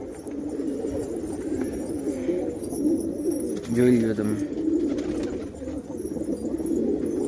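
Racing pigeons being readied for a flying tournament coo in short, low bursts close by, the calls rising briefly above a steady murmur, with a person speaking at the same time.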